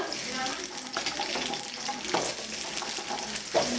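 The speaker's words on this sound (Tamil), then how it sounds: "இப்போ மீன் குழம்பு வைக்க வெங்காயம் வணக்கிக்கலாம்" Onions sauté in a pan for fish curry, giving an even sizzle with stirring scrapes and a few utensil knocks, close and moderately loud.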